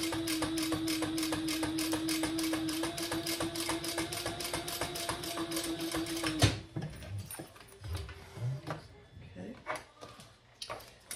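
A sewing machine stitching slowly through thick seams of a small tote bag runs in a rapid, steady mechanical rhythm for several seconds, then stops, leaving quieter handling noises and a voice speaking.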